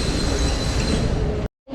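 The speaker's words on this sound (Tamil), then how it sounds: "இங்கே பாருங்க மெட்ரோவை திறக்கிறத பாருங்க எப்படி திறக்கும்னு சொல்லிட்டு." Metro train doors opening at a station produce a loud, steady rushing hiss for about a second and a half that cuts off abruptly into near silence.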